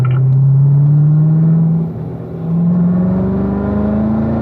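A car lapping a race track, a loud steady engine drone whose pitch climbs gradually, dips briefly under braking, then rises again as it accelerates out of a corner.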